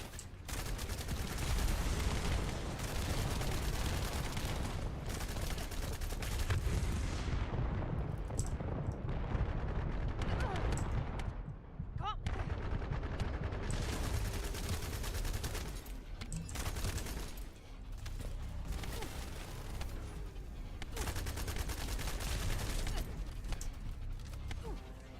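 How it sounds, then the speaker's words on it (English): Weapons in the video game The First Descendant fire in dense, sustained volleys during a build test. The shooting is loud and nearly continuous for the whole stretch, with a few short gaps. "swapping over and firing again"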